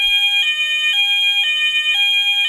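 A C-TEC Hush Pro fire alarm runs through its test tones, a loud, steady electronic sounder that switches pitch about every half second in a regular two-tone alternation, heard alone without speech.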